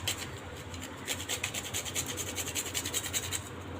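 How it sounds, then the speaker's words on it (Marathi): Whole nutmeg grated for a karanji sweet filling: a quiet, rhythmic rasping with quick regular strokes, each stroke a short scratchy burst, continuing steadily without any voices. "जायफळ किसून टाकते"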